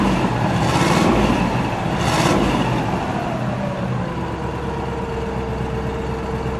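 A 1953 Buick Roadmaster convertible engine revs up twice from a cold idle outdoors, each rise swelling and falling back, then settles into a steady low rumble.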